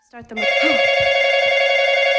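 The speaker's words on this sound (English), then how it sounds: "the landline phone in the kitchen rings, but no one answers on the other end" A landline telephone in a kitchen rings with a steady, insistent electronic tone that starts after a brief sound and carries on unbroken and loud.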